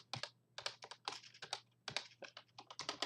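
Fingers tap out quick, uneven bursts on a computer keyboard, a clean run of close, crisp clicks with brief pauses between flurries and no voices.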